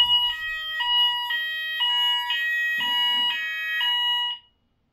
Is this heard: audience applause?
no